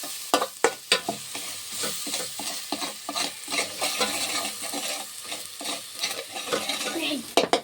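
A spoon scrapes and stirs a chana dal mixture in a pan, with repeated sharp clacks and scrapes in an irregular rhythm over a soft, continuous sizzle.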